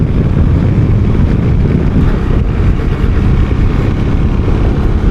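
ZONTES 368G maxi-scooter ridden hard in S mode, giving a steady, loud engine drone mixed with heavy wind rush across the microphone, continuous throughout with no voices.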